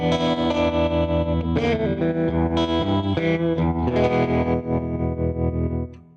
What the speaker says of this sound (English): Let's check out a bit of tremolo and a bit of spring reverb for a